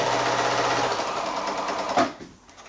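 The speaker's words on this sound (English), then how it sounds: "then back to the sewing machine" A sewing machine runs steadily while chain piecing a large nine-patch quilt block, a loud continuous mechanical whir that stops abruptly near the end.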